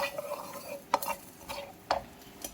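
Mustard seeds, cumin and fenugreek roasting in a pan for homemade sambar powder, heard as soft crackling and sizzling with a few sharp pops and stirring scrapes of a spoon against the pan, close up and with no voices.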